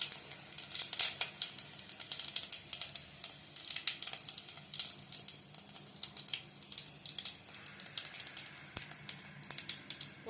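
Whole fennel seeds and cinnamon sticks crackle and sizzle in a generous pool of hot oil for a Tamil squid thokku, with steady, busy spitting and popping close by and no voices.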